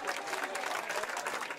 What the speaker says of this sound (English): Macron's centrist Republic on the Move party broke out in applause at the sight of their commanding majority